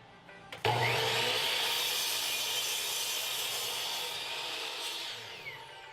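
A power saw, likely a miter saw, starts with a sharp onset and cuts through a wood board in one continuous, loud whining pass lasting about five seconds while building a teacher's podium. Nobody speaks.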